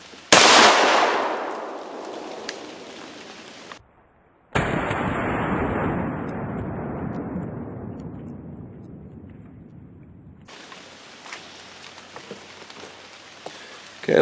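A shotgun with an improved modified choke fires 3.5-inch Rio Blue Steel #3 steel shot shells outdoors. A sharp, loud blast comes first and decays, then a second loud burst follows with a long rushing tail.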